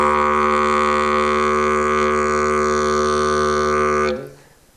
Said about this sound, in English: I'll be using this beginner didgeridoo to teach you the techniques for achieving the drone note.